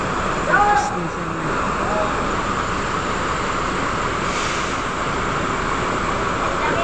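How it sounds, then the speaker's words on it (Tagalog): Continuous rumbling roadway noise from nearby buses idling and moving at a bus terminal in Kabankalan, Philippines, a steady engine drone with a brief squeal early on. "Pasensya na kayo sa ingay guys dahil terminal dito, so maingay talaga guys sa mga bus."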